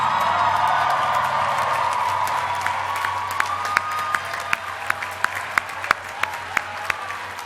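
Graduates at a university commencement ceremony applaud their family and friends, a broad crowd of clapping that thins toward the end into scattered individual claps, with faint cheering in the mix.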